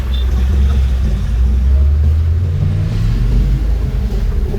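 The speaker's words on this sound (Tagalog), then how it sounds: "sasakyan talaga ng Tibungko, daming dumadaan. Napaka-traffic talaga." Heavy road traffic passing on a busy street in Tibungco, a continuous loud, deep rumble of car and vehicle engines close by, with swells as vehicles go past.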